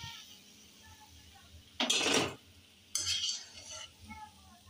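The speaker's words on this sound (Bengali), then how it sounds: "ছানতা এবার আমি তুলে নিচ্ছি, তেলটা ভালো করে ঝরিয়ে নেব" Fried palm fritters are lifted out of hot oil with a large slotted spoon and drained, giving two short bursts of scraping, sizzling clatter against a faint background.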